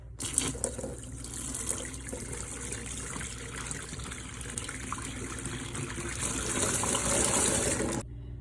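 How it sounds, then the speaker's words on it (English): Dirty water from a coffee machine tank pours into a kitchen sink in a steady gushing splash that runs for several seconds and then stops abruptly. "we're gonna go dump it out in the sink and see what we're working with"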